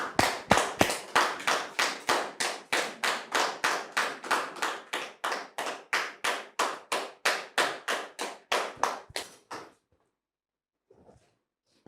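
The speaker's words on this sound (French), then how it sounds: "Sous vos applaudissements" A studio audience on a French talk show applauds to welcome a guest, some thirty loud, regularly spaced bursts over about ten seconds that stop abruptly, followed by near silence.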